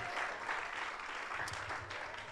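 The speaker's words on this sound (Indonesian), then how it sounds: "Kasih tepuk tangan yang meriah buat Tuhan." Congregation clapping during a church worship service, a steady dense wash of applause filling the whole stretch at moderate level, with no clear speech over it.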